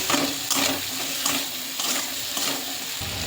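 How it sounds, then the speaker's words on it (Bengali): Potatoes fry with onions in a pan, a soft steady sizzle with intermittent stirring scrapes, close and fairly quiet with no talking. "আলুটা ভাজা ভাজা হয়ে গেছে পেঁয়াজগুলোর সাথে।"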